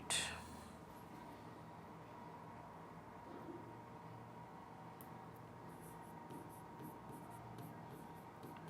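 A pen scratches across paper in quiet, intermittent strokes, faint and close, with soft room noise and a brief louder knock at the start.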